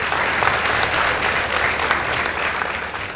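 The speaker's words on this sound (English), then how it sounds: "Let's give them a round of applause." Audience applause at a school debate between Kenyatta High School and Mukurweini Boys High School after a team's score is announced; steady, dense clapping from a large crowd fills the whole stretch without a break.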